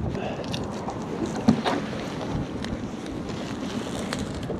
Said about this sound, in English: Got a wind coming from the northwest, but more from the west.